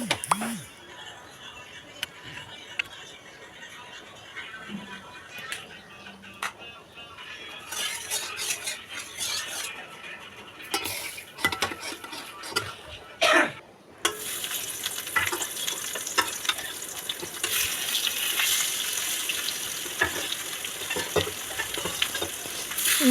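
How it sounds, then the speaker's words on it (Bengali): Parshe fish frying in hot oil in a wok, starting with light clinks of utensils and scattered spatters before a loud, steady broadband sizzle takes over and holds close through the second half. "এখন মাছ ভেজে নেব। কড়াইটা গরম হয়ে গেছে,"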